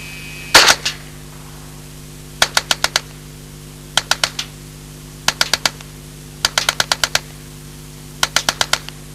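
An Alan Halla 1977 experimental prototype low-recoil submachine gun fires Federal 123-grain ammunition in short, sharp bursts of three to six rapid shots, separated by pauses, loud and close with a steady hum underneath.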